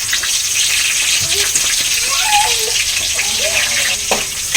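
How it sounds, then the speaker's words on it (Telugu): Fish pieces, fins included, drop into a hot pan for a Telugu-style fish curry, giving a steady loud sizzle with splashy bursts and stirring, under faint talk. "ఇదిగోండి చేప ముక్కలు వేసుకుంటున్నాం"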